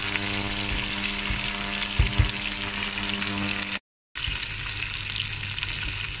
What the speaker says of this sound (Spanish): En la misma cazuela, con un fondo generoso de aceite, pongo las peladuras.